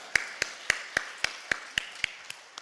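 A church congregation claps in steady unison, about ten crisp, evenly spaced beats, fairly faint and with no voices over them.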